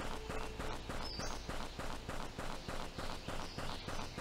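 Footsteps walk on foot through a graveyard area in the video game Animallica, a steady even rhythm of close, moderately loud steps over a continuous game ambience.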